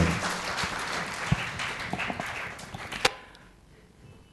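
An audience at a book launch ceremony applauds to welcome humor writer Ashok Dave, a dense burst of clapping with a few sharp claps standing out, fading away over the final second.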